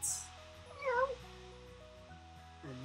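A cat meows once with a rising, wavering cry, set against a quiet room with a steady low hum and a faint second call at the end.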